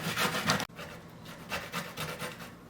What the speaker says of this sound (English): I'm just gonna continue grating the cassava in the small one, the small grater